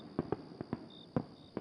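Distant fireworks bursting under a night sky, a handful of soft, muffled pops landing irregularly against a quiet background, with a faint steady high tone running underneath.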